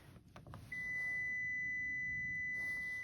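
Kia Sportage 2022 giving a steady, continuous electronic beep while its engine runs and the key is in a pocket, a clear tone that holds for over two seconds after a few brief clicks, with quiet engine hum underneath.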